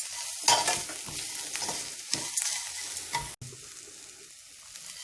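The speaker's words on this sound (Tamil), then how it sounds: "அடுப்பை ஆஃப் பண்ணிவிட்டு இப்போ சாதத்தில் மிக்ஸ் பண்ணிடுவோம்." Sautéed grated coconut stirred into cooked rice in a pan off the heat, a steady scraping and mixing with soft crackle, close and continuous with sharper scrapes of the spoon throughout.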